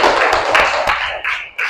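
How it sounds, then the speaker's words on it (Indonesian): In a classroom, people clap for Group 1 after their presentation, a short burst of sharp, uneven claps and taps close by that thins out into a few separate hits. "silahkan tepuk tangan untuk kelompok"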